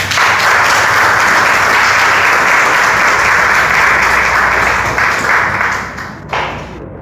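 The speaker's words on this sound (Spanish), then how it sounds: "Un aplauso para ellos" Audience applause after a Veracruz-rooted music group performs at an art school event in Tuxpan, a loud, dense crowd clapping sustained for several seconds before tapering off near the end.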